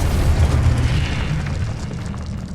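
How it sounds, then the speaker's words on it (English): A Confringo fire spell bursting in the Hogwarts Legacy video game during a duel, producing a loud, deep explosive boom that rolls on as a dense rumble throughout. "Confringo!"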